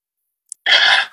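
A single short, sharp cough, close and alone, preceded by a tiny click in the quiet.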